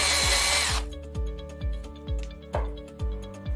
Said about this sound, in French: Maintenant vous pouvez visser et dévisser sans embout spécial.